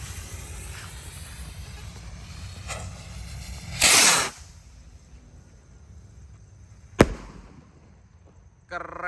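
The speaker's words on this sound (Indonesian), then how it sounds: "Ini roket Roman candle, siap kita nyalakan." A Gold Dragon Roman candle rocket firework goes off with a loud rushing hiss of launch lasting about half a second, followed by a sharp crack, then a fainter pop at the end over quiet outdoor background.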